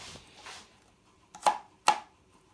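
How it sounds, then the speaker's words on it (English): Garlic being roughly chopped with a knife on a board: a few soft early taps, then two sharp, distinct knife strikes close by in a quiet room. "Roughly chop the garlic up again."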